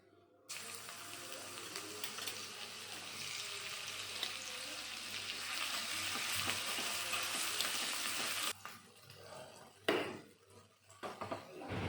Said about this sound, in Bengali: রসুন কুচি আর আদা কুচি আমি তেলের উপরে একটু ভেজে দেব